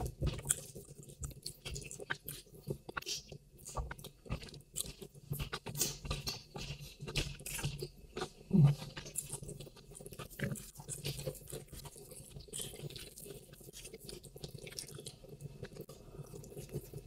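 Nigerian fufu with efo riro vegetable soup is chewed close to the microphone, with soft, wet, squishy mouth sounds and smacks repeating through a quiet background.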